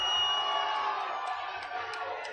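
Softball fans in the stands cheer and whoop at a 6A state championship game between Bingham and Riverton, a loud sustained crowd roar with shouts rising over it and slowly easing off.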